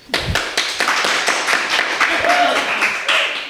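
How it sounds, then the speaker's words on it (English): A podcast audience gives a round of applause for Andy Smith, a multi-time BRISCA F1 champion: dense, steady clapping from a small nearby crowd that continues for several seconds with a few sharper individual claps. "That is the best round of applause we've had on here."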